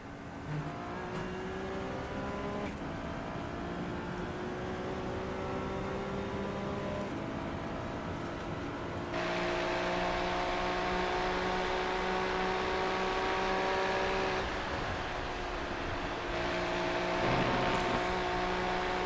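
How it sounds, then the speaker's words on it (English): Turbocharged Ferrari race cars in an endurance racing sim roar steadily at high revs, several engine notes layered together, with gear changes and shifts in pitch as they thunder down a straight. "witness the turbo power and the straight line speed of these Ferraris is phenomenal"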